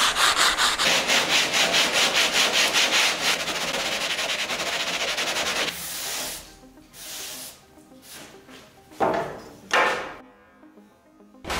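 A grater fixed to a wooden bar scrapes across an aerated concrete block, giving loud rhythmic rasping strokes that slow into separate louder scrapes with short pauses between them.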